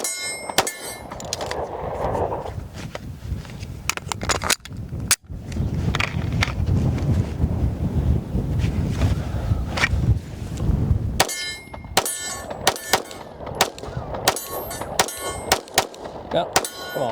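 Sig Sauer P320-M18 pistol fired at a range target, a run of sharp bangs with ringing metallic clangs from steel targets, spaced irregularly across the clip, near and loud with quieter gaps between.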